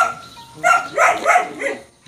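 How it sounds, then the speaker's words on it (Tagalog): A dog guarding its house barks in a quick series of four or five loud, sharp yaps at close range after a brief quiet start. "Galit yung ano yung may-ari ng bahay, yung aso."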